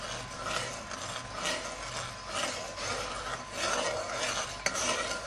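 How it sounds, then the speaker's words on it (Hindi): A spoon scrapes and churns thick mawa as milk powder is worked in, giving a continuous gritty rasping and rubbing that rises and falls with each stroke, close and fairly steady. "चमचा चलाते रहेंगे ताकि ये बिल्कुल ठीक हो जाए"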